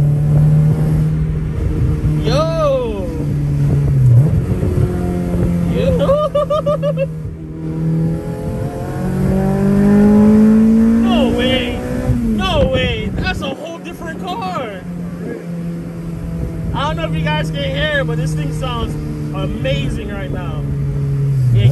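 A K24-swapped Honda Civic with a custom 3-inch exhaust revs up and down repeatedly with a deep, raspy exhaust note, close and loud, while people talk excitedly over it.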